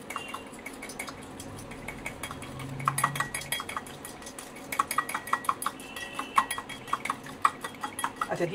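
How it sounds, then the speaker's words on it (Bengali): Eggs and sugar are beaten in a bowl, with steady clinking and scraping of a utensil against the bowl, fairly close and with no talking. "প্রথমে আমি এই ডিমটাকে ফের ভালো করে ফেটিয়ে নিয়ে এর মধ্যে চিনিটা দিয়ে খুব ভালো করে ফেটাবো।"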